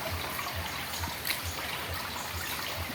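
Water in the Agbubulo river flowing and bubbling, a steady close trickle with low, soft bubbling pulses that come in a slow, regular rhythm.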